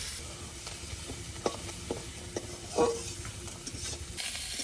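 Fish sizzling as it fries in a pan, a quiet steady hiss with a few sharp spatula scrapes and taps.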